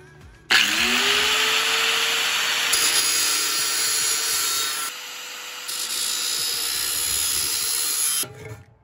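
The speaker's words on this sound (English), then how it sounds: "Once you got your hole marked, get to cutting." A power tool cuts a hole for a DIY candle heater build, whining up to a loud, steady high-speed grinding roar that runs continuously for several seconds before cutting off, close and alone.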